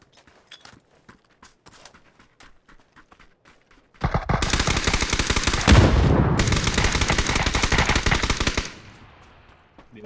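Video game gunfire: after a few seconds of faint scattered clicks and footsteps, a loud, dense automatic burst erupts up close and rattles continuously for about four seconds before cutting off.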